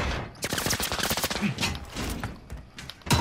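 Rapid gunfire in Call of Duty: Modern Warfare, with dense overlapping automatic bursts from close range and a sharp shot at the end.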